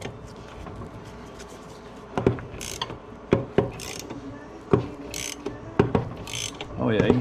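A hand-cranked case splitter works on Suzuki LTZ400 engine cases, giving rapid ratcheting clicks broken by sharp metallic cracks and creaks as the cases separate, close and fairly loud, with no voices.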